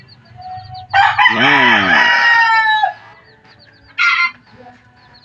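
A white-legged bantam hen lets out a loud, drawn-out squawking cackle lasting about two seconds, followed by a short sharp cluck; someone briefly speaks nearby.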